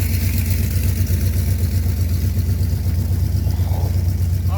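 A car engine runs steadily at a low, rumbling idle, droning continuously without pauses, close by.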